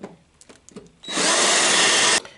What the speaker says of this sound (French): avec un forêt de 7, je vais juste, voilà, pointer, voilà, pour savoir exactement où il faut que je